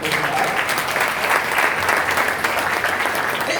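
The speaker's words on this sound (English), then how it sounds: "Please, a round of applause for you." A crowd gives steady, dense applause as a round of clapping for a guest at a YouTube content-creator event, sustained and even from start to finish with no pause.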